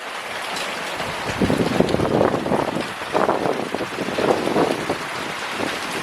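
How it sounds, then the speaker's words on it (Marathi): Strong wind roars and buffets the microphone in uneven gusts during heavy rain in the Konkan, with a constant broad rush and surges that rise and fall, and no voices. "त्यावरून तुम्हाला कळेल हवा किती होती भरपूर हवा"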